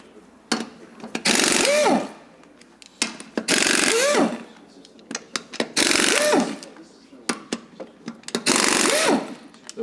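Brass wheel lug nuts on a Rolls-Royce Silver Cloud III being loosened with a power tool, four loud buzzing bursts of about a second each, separated by clicks and rattles, close by.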